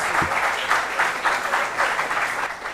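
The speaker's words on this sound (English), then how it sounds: "A round of applause for our contestants, please" Audience clapping for contestants at a school quiz competition, a dense, continuous round of applause that swells in gentle waves, fairly loud and close, with no talking over it.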